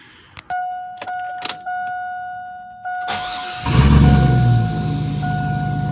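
A vehicle chime beeps steadily with a few clicks and key jangles, then a Chevy/GMC truck's 5.3L engine cranks and rumbles to life, settling into a loud idle.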